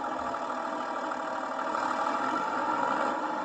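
A tractor engine idles steadily in the open air, a constant close mid-pitched rumble with no change in revs and no talking.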